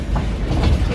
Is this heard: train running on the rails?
yes